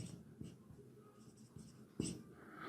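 Chalk or marker scratching across a classroom board in short strokes, close and fairly quiet, with a sharper tap near the middle and no talking over it.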